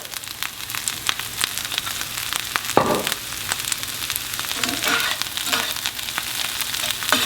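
Tempeh fries in oil in a pan over high heat, giving a dense, steady sizzle with a brief scraping stir partway through and a few softer clinks later.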